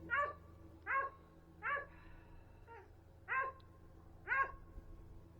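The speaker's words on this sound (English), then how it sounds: "A dog going crazy." Dog barking excitedly at a cat chasing a rabbit under a building, five or six sharp barks evenly spaced about a second apart, moderately close against a low background hum.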